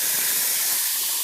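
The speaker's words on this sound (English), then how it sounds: "we add our meat." Ground beef hits a hot pan with zucchini and salt on medium heat, giving a loud, constant, close hiss of sizzling that stays unbroken for just over a second, with no talking.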